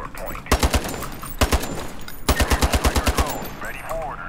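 Short bursts of rapid gunfire in the shooter game Ironsight, fired through a wall: three or four quick loud shots, another short burst, then a longer string of about eight evenly spaced shots.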